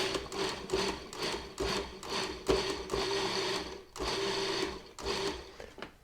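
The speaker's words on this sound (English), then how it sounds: "add in the flour and use the processor, a little bit of pulsing, just to mix those two together" Short pulses of a food processor chopping flour and walnuts for shortbread dough, a rhythmic run of repeated whirring bursts, close and fairly steady, with no talking.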